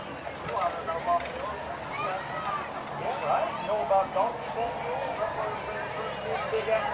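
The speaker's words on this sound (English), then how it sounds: "Check out the red and blue toenails on the hoofs of those horses." Horses clip-clop along a Fourth of July parade route in Granbury, a loose rhythm of hoof strikes on pavement mixed with crowd noise, while people talk over them nearby.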